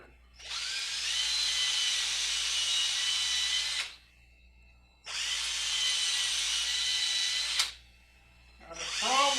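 Power drill boring a hole through a salt shaker in a workshop, three loud high-pitched whining bursts separated by brief pauses, the last one only beginning.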